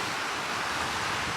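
Steady, loud wind buffeting over a broad rushing roar along an open shoreline on the Isle of Wight, with no voices.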